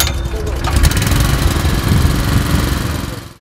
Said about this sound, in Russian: Имеющиеся в их распоряжении техника и оборудование заводились,